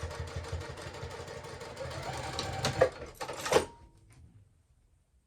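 A home sewing machine runs steadily as it stitches the seam of a fabric clutch wristlet, its motor whirring at a close, even pace before stopping, with a couple of small clicks near the end and then quiet.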